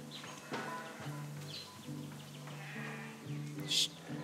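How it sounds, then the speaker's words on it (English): Sheep bleating in the video game Sable, several soft cries at a moderate distance over ambient game sound with a brief bright chirp near the end. "They're making sheep noises."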